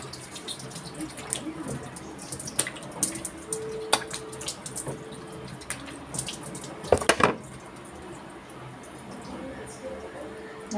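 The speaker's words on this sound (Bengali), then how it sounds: "তো চলো এবার আমি একটা ধুয়ে দেখাচ্ছি।" Water running and splashing at a sink as a facial pack is washed off the face, with steady flow and scattered splashes close by.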